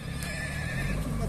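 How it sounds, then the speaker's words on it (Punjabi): A mare neighs in a brief, fairly faint whinny at a horse market, heard alone over a low background. "ਲਓ ਜੀ, ਘੋੜੀ ਦਾ ਗੌਰ ਨਾਲ ਵੇਖ ਲਵੋ"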